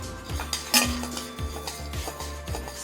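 Carrots and boiled corn kernels being sautéed in a pan, with a utensil repeatedly scraping and clinking against the metal in a quick stirring rhythm, close and clear.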